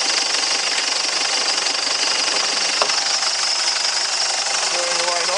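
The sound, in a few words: Ford Ranger 3.0 WEAT diesel engine running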